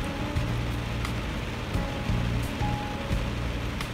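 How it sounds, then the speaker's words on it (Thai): Heavy rain drums down without pause, a thick close wash of noise with a low churning rumble underneath and occasional sharper splats. "ฝนตก"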